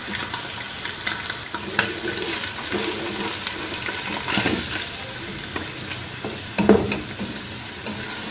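Chicken and carrots sizzle and are stirred in a hot pan, a steady frying hiss broken by scraping and clattering stirs, close up with no talking.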